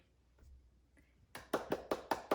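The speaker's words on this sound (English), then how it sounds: "I'm clapping because there's nobody here to clap with me, and I love clapping" A woman claps her hands alone, six sharp, evenly spaced claps ringing out close and clear after a quiet start.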